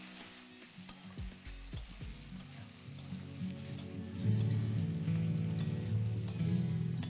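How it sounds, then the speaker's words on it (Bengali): Potato pieces frying with onions in a pan for aloo posto give a soft, low sizzle with spoon scraping and stirring knocks, growing somewhat fuller and steadier partway through. "আর আলুটা দেওয়ার পরে পেঁয়াজের সাথে এটাকে আপনাদের ভালো করে ভেজে নিতে হবে।"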